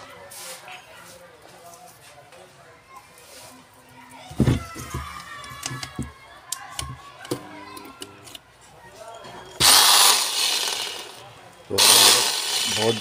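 A Bosch 6-100 angle grinder is switched on for a test before repair, screaming loudly in two short bursts near the end. Earlier there is a voice with scattered clicks and knocks.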